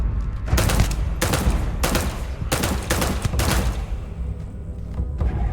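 Loud bursts of gunfire from a long-range weapon in the video game Starfield, several rapid volleys spaced about a second apart over a constant rumbling background, with no talking.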